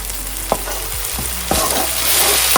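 Tomato puree made from two tomatoes, stirred into softened onions frying in a pan: a loud close sizzle with a few scraping stirs of the spoon, no talking.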